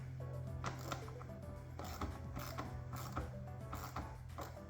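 Ratchet tightening a hose clamp on the air intake of a 2022-2025 Hyundai Kona SE 2.0L engine: repeated close clicking ratchet strokes in a steady rhythm over a low background hum.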